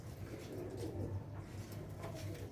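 Rooftop pigeons cooing softly and repeatedly in a quiet outdoor setting, with low rolling calls that continue through the whole moment.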